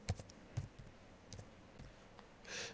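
Computer mouse clicks while working in Roblox Studio: a few soft, isolated clicks spaced apart in a quiet room, followed by a faint breathy rustle at the end.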